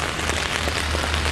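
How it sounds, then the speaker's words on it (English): Rain patters steadily on a slushy, slippery road during a snow event in Nassau County, a dense continuous hiss close by with no voices. "So you can hear it is now raining."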